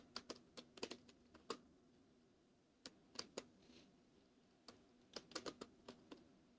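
Fast bursts of typing on a misbehaving computer keyboard, with sharp clustered keystrokes separated by brief pauses, close and fairly quiet, with no talking.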